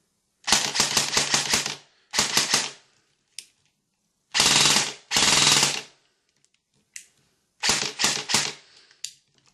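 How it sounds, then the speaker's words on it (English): Airsoft gun with a standard gearbox test-fired in short bursts and single shots, each trigger pull giving a crisp rapid clatter, loud and close with silence between volleys. "I'll just give a quick test fire so you can Hear what the trigger response is like."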